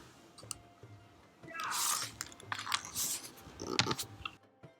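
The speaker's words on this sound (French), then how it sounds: "Je vais bien mélanger la préparation et puis je vais verser dessus la crème chauffée en plusieurs fois en mélangeant." A thick amlou and argan oil preparation is stirred together with heated cream, giving close, wet squishing and slapping sounds in uneven bursts.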